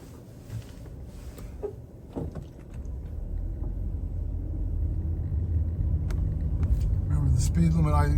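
City traffic on Broadway in Manhattan heard from inside a moving vehicle, a steady engine and road rumble that swells gradually, with a few passing sounds and a voice talking over it.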